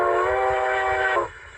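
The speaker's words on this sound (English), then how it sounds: "F3 is a different whistle, and that's based off of how long you hold it on" A model train steam whistle from a Zimo MX696S sound decoder in an LGB Mogul locomotive sounds as one sustained, loud, multi-tone blast, cut off abruptly near the end, with a low rumble underneath.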